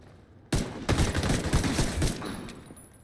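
Video game gunfire erupts suddenly after a brief quiet moment as a rapid volley of loud, close shots aimed at an enemy's head, then fades with a short tail.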